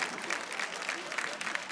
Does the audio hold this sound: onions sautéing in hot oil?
no